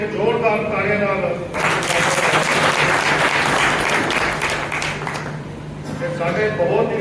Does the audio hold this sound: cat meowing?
no